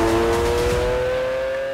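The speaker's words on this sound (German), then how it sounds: "Dass Lamborghini das Auto mit so einer Lautstärke zugelassen bekommt, ist krass." Loud Lamborghini sports car engine holding a steady, strong drone with a sharp tonal whine, close by and alone, easing slightly in level toward the end.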